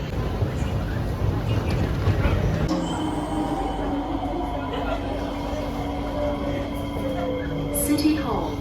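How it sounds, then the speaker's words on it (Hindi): Singapore metro train on the red line rumbling and whirring steadily from inside the carriage, with a faint high squeal near the end and people talking over the ride. "सिंगापुर की मेट्रो में ट्रैवल कर रहे हैं।"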